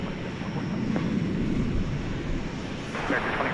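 Jet airliner roaring steadily during a takeoff roll on a runway at Dallas/Fort Worth airport, a loud continuous low rumble with a faint rising whine near the end.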